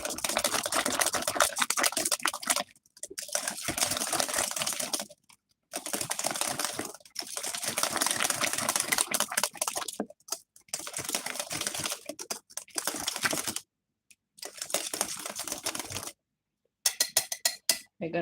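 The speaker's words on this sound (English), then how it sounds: "So just whisk." Eggs are whisked in a bowl for banana cake batter, giving rapid, fairly quiet clicking and tapping in bursts of a few seconds separated by brief pauses.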